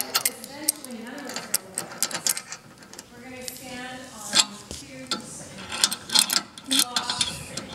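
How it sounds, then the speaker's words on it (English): Wrench tightening the clamp of an ellipsoidal stage light fixture, heard as a run of quick close metallic clicks and ratcheting scrapes in irregular bursts, with talk mixed in. "So now I'm gonna tighten it with the wrench."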